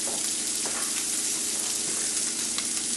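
Blackened fish sizzling in a hot pan, a dense, steady frying hiss with faint crackles and pops throughout, close and even, no speech.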